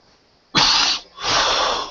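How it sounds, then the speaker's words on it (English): Two harsh, loud coughs in quick succession, close to the microphone, after a moment of quiet. "Sorry about the coughing."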